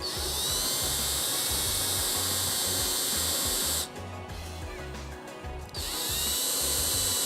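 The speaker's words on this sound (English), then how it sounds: "So you don't have to do this at a high speed, just low speed is enough" A power drill drills through wood at low speed, whirring loudly and steadily, cuts out briefly to a quieter grinding, then spins back up at full speed; no talking.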